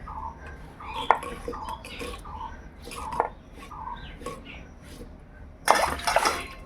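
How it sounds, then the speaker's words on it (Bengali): Spice paste being ground by hand on a village grinding stone, with repeated scraping and knocking strokes at irregular intervals and a louder burst of rubbing near the end, fairly close, with faint background sounds. "তাও আরেকবার বেটে নে, সুন্দর হয়ে পিনো হয়ে যাবে।"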